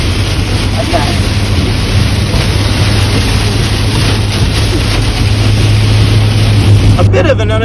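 Heavy rain drums on a car driving through a downpour, a loud, continuous hiss with a low engine-and-road rumble beneath and a brief sharper swish near the end.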